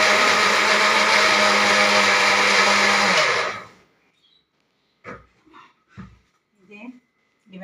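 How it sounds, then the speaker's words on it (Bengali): A mixer grinder whirs loudly, blending green and red chillies, ginger, garlic and onion, then cuts off abruptly, leaving a few brief faint clinks and soft sounds in the quiet afterward. "কাঁচা লঙ্কা, পাকা লঙ্কা, আদা, রসুন, পেঁয়াজ সব একসাথে মিক্সচার মেশিনে"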